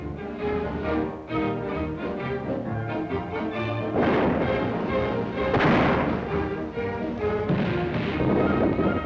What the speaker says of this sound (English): thousands of anti-aircraft guns, and thousands more in production